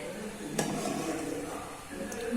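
Milk being stirred in a pot as it boils and thickens for milk cake, a steady bubbling sizzle with a couple of sharp utensil scrapes against the pot.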